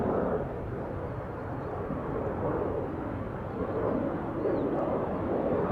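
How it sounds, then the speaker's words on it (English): A KLM airliner takes off at Amsterdam Schiphol, a steady broad jet roar held at fairly even loudness throughout, with no talk over it. "here we have a KLM and Bravo 90 taking off first"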